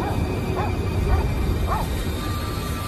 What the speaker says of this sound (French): son chien s'est mis à aboyer, ce qui l'a réveillé.